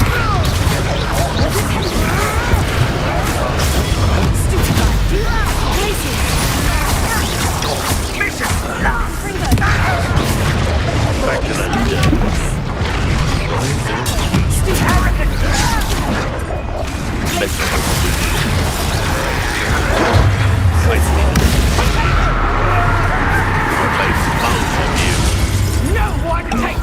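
Confringo blasting spells from Hogwarts Legacy burst in a dense, continuous run of loud explosions, cracks and shattering debris. Game voices are occasionally heard through the din.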